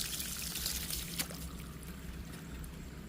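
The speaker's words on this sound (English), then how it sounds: "To test whether the repair is truly strong, I'll pour water over it." Water is poured over an asbestos roof patched with a wood dust and styrofoam mix, making a soft, faint, continuous trickling and splashing over about three seconds.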